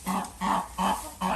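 Brahma rooster clucking in a farm poultry pen, four evenly spaced, moderately loud clucks in a steady rhythm, close by with no talking.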